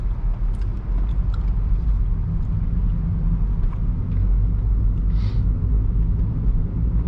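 A 2011 Honda CR-Z driven in normal mode, heard from inside the cabin as a steady low engine and road rumble that stays even throughout, with no talking.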